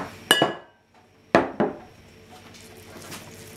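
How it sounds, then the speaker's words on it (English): Slices of feta cheese going into a glass jar give a few sharp, close clinks and knocks against the glass, with a short pause between them and quieter handling after. "Now I've got a jar to put it in."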